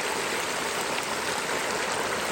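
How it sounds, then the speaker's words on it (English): A whole turkey is slowly lowered into 350-degree frying oil, setting off a loud, continuous bubbling sizzle that rushes like running water and stays close and steady. "You see me slowly putting the turkey in the oil."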